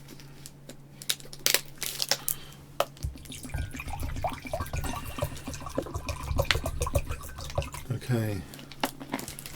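Water poured into a glass at a desk, a short trickling, splashing run of a few seconds with clinks and knocks before and after, close and fairly quiet, with a brief spoken word.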